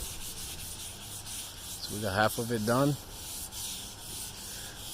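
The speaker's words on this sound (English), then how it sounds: "you can hear the noise when you're sanding it" Sanding the inside edge of a car hood by hand makes a steady, close rasping scrub that runs throughout, with someone briefly speaking midway.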